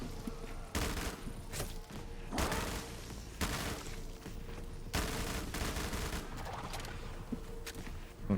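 Repeated bursts of gunfire from shooting zombies in a Black Ops 3 custom zombies map, loud volleys separated by short gaps over steady game noise, with no talking.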